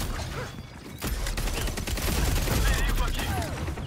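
Rapid bursts of gunfire from the cartoonish first-person shooter Concord, dense overlapping shots and mechanical clatter filling the whole clip at close range.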